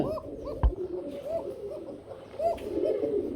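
Pigeons of the Bombay gola breed coo softly and repeatedly at a pigeon market, their rolling calls rising and falling close by, with a brief sharp knock near the start.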